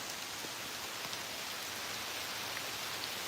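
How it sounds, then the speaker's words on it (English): Rain falls steadily outdoors, a dense, even hiss of drops on surfaces that stays constant throughout, with no voices. "it's starting to rain right now."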